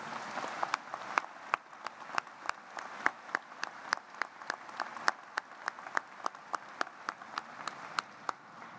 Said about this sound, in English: give a round of applause to all those faculty members